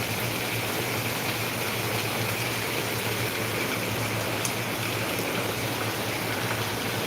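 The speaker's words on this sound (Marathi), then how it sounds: "मस्त धबधबा झालेला आहे इथं पाहिलं का धबधबा" Water gushing like a waterfall during heavy rain in Ahilyanagar, a dense continuous rushing roar with a low steady hum beneath, unbroken and fairly loud.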